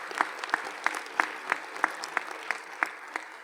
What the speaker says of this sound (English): I just would like to give them a round of applause if they so happen to be in the room